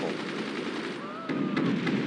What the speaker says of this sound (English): Oh, it's a smoking mortar.